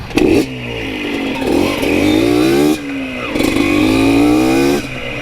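A Honda XRM motorcycle is ridden on a road near Butuan City. Its engine is close and loud, rising in pitch through repeated revs and gear changes, with brief drops between accelerations.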